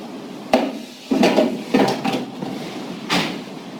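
Plastic cover snapped back onto an 817np unit: a handful of close, hollow clunks and knocks spread over a few seconds, with light rattling between them.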